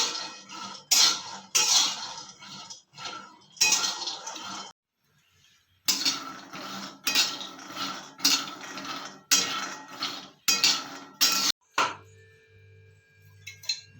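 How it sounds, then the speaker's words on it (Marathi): Peanuts being dry-roasted and stirred in a pan on a home kitchen stove, with repeated bursts of scraping and rattling in close rhythmic strokes, a brief quiet gap, then a steady low hum at the end. "तर आता आपण शेंगदाणे भाजायला लागतो"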